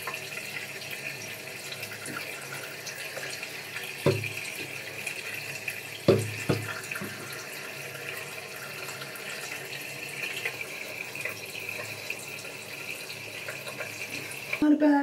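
Water runs steadily from a bathroom tap in a small, cramped bathroom, making a constant hiss with a few louder splashes or knocks scattered through. The sound is moderately close.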